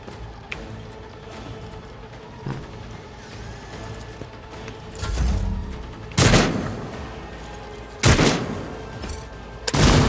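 Gunfire in the Rogue Trader video game: several loud, separate bursts of shots over a low game ambience, growing more frequent toward the end.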